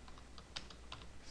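Quiet computer keyboard typing, a few soft, irregular clicking keystrokes close by, alone with no voice.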